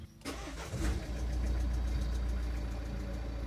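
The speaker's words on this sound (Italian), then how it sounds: "dobbiamo accendere il motore e metterlo al minimo" A car's diesel engine cranks over and catches, then settles into a steady, loud, close idle with a continuous low rumble right after a home DIY particulate filter replacement.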